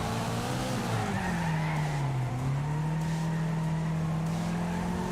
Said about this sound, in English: Oh, the sound of this car though, it actually sounds really, really nice. The little inline four, the buzzy 4-cylinder.